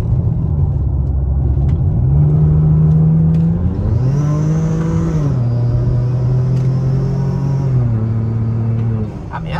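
A boosted V6 car engine rumbles and revs at about half throttle, rising and settling in pitch over several seconds, loud and close, with a voice speaking over it.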